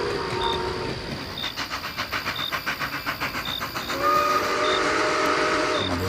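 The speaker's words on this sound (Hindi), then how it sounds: "ट्रेन की आवाज जोर से सीटी मार रही थी।" A steam train chugs at night with rhythmic puffs and hissing in a Hindi horror audio story, then a long, loud whistle blows over the rumbling engine.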